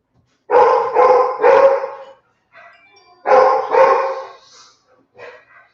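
A dog barks loudly nearby in two quick bursts of three and two deep woofs, followed by softer yips and a brief whine, with no voices.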